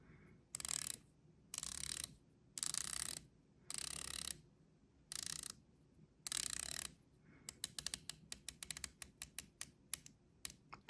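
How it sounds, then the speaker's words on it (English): Epos 3504 titanium dive watch with a polished ceramic bezel inlay being turned, giving close, crisp ratcheting clicks: six short bursts of rapid clicking, then a quicker run of individual clicks, alone with no talk. "Just really pleasant ratcheting on here and no backplate."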